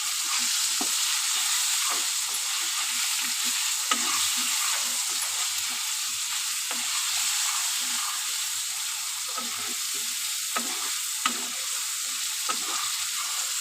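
Turmeric, salt and spices fry in a pan with a steady broadband sizzle, punctuated by light scraping stir strokes throughout, close and continuous with no talking.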